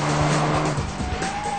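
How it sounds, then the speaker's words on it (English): A self-driving Volkswagen Golf GTI squeals its tyres on a test track, a loud, continuous skidding screech over steady engine noise that runs for under two seconds. "The self-driving Golf was developed to be the ultimate test driver"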